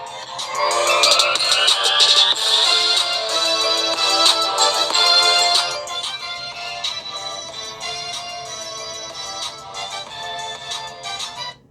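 Music playing from the bottom-firing speaker of an Umidigi A3 Pro phone held near a microphone, bright and fairly loud with a rising tone at first, then continuing slightly quieter to the end.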